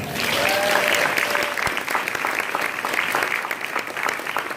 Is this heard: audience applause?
yes